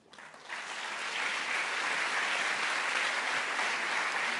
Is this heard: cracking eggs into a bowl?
no